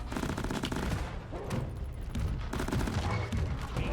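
Grenade launcher in Deep Rock Galactic firing on a Praetorian, a dense run of blasts and explosions blending into a continuous booming, crackling barrage at moderate level, with no speech.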